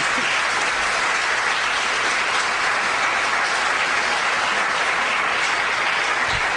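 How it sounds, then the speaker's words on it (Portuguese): Congregation clapping steadily during a church testimony service, a dense, continuous wash of applause from a large crowd lasting several seconds with no talk over it. "Aplauda ao Senhor."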